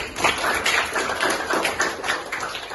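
Classroom audience clapping for groups who presented their conclusions, a steady run of hand claps at moderate level with no talk over it.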